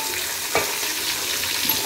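Chilli, spice powders, salt and lemon hit hot oil for a tempering in making instant chilli pickle. A short, steady sizzle follows, with a faint stirring clink partway through.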